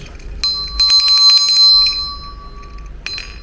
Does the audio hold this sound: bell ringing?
yes